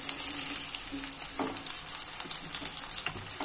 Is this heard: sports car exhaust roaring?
no